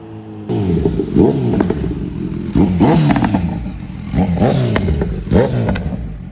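A motorcycle that can pop wheelies in sports mode, ridden nearby with its engine revving up and down in repeated rising surges, loud and close.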